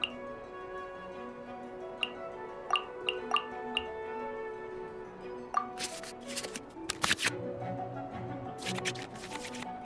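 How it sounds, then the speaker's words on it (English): In the Genshin Impact card game, cards are shuffled back into the draw pile. Chiming interface tones and clicks lead into short, bright bursts of card-shuffle sound effects later on. "we can select any number of cards in our hand to shuffle back into the draw pile"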